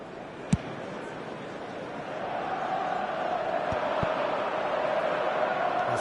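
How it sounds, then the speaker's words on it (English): A stadium crowd in a football video game swells into sustained applause and murmur, a broad steady roar that builds gradually, with a couple of sharp knocks near the start. "it's applause all round us here"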